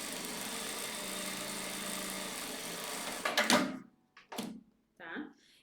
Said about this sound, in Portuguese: E vai passar uma costura de rebate aqui em cima.